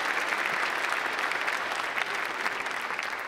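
A church congregation breaks into sustained, dense applause during a Palm Sunday-season service, steady and full throughout with no clear voices on top.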